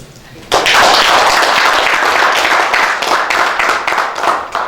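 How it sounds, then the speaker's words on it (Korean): A crowd of thousands at a political rally for the Democratic Peace Party bursts into applause, a sudden loud, dense clapping that starts abruptly and sustains with a sharp, rattling texture. "박수 한번"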